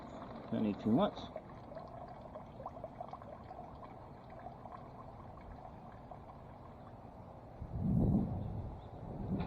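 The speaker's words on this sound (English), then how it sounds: "And I just water like so." Water is poured onto plants in a fall vegetable garden, with two short splashing bursts near the start and later, over a low outdoor background.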